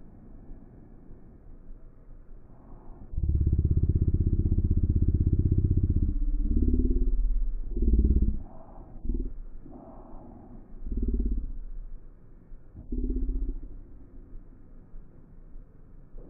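Kawasaki ER6F Ninja 650R engine revving hard for about five seconds, then a series of shorter throttle bursts with brief dips as it shifts gears without the clutch, close and loud against a quiet idle.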